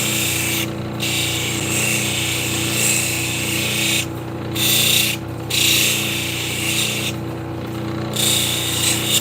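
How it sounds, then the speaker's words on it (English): A 1200 grit wheel on a lapidary machine grinds and polishes a rock slab, giving a steady motor hum under a hissing, rubbing sound that cuts out briefly several times as the slab is lifted and pressed back on. "now I'm up to the 1200 grit wheel"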